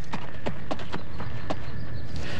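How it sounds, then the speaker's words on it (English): A horse named Thunder gallops past, its hooves striking as a steady run of sharp clip-clops over a continuous noisy background. "The final horse for this year's Hits team is Thunder."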